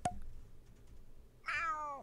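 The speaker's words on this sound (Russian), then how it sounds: "Мяу." Gary the snail meowing in the SpongeBob Patty Pursuit video game, a single clear cat-like meow rising then falling, preceded by a sharp click and quiet gap.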